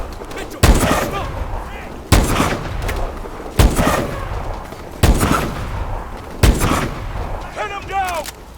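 Loud gunfire in the Call of Duty: Advanced Warfare video game, with five sharp shots or short bursts spaced about 1.5 seconds apart over a continuous battle rumble, and a brief electronic chirp near the end.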